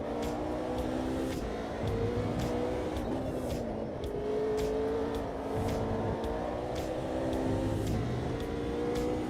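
McLaren race car engine in a sim-racing game, a loud sustained high-revving drone that rises and falls through gear changes with clicky shifts, continuous over the whole stretch with no speech.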